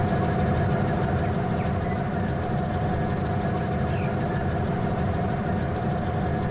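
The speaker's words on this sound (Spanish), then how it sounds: "Y aquí vemos pues la locomotora." Locomotive engine running in the train simulator Rolling Line, a steady droning hum with a low rumble and constant tone, unchanging throughout with no talk over it.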